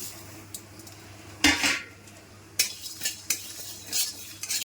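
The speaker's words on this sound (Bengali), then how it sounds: "এগুলো আমি শুকনো খোলায় ভেজে নেব" Coriander seeds, black peppercorns, cumin, dried red chilli and a little rice are dry-roasted in an empty pan, giving close, loud bursts of scraping and stirring against the metal with short gaps between strokes.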